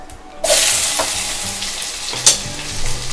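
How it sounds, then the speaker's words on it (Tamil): Whole spices such as fennel, cloves, cinnamon and bay leaf dropped into hot oil for a kurma, a sudden loud close sizzle that keeps crackling steadily with a brief stir, no speech. "எண்ணெய் காஞ்சதும் சோம்பு, லவங்கம், பட்டை, இலை இதை போட்டுருவோம்."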